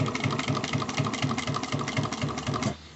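A Juki DNU-1541S industrial sewing machine runs at its slowest motor speed with an even, close mechanical hum and a steady repeated stitch beat, then stops near the end.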